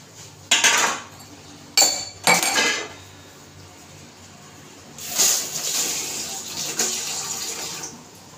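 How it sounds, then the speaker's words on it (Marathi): A plate being rinsed under water while cooking Bharli Vangi, stuffed eggplant, with a few sharp clinks of dishes near the start and a longer splash of running water later, close and moderately loud. "थोडंसं एक ताट धुवून घालते."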